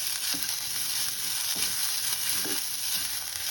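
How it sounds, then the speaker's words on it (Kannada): Onions frying in a pan until golden for chicken sambar, a steady broadband sizzle with a few soft stirring knocks, close and continuous with no talking. "ಈರುಳ್ಳಿ ಗೋಲ್ಡನ್ ಕಲರ್ ಬರೋ ತನಕ ಹುರ್ಕೋಬೇಕು."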